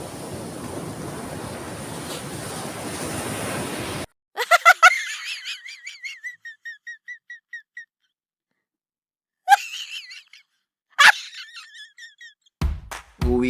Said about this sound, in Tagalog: Kaso, sobra lakas ng alon.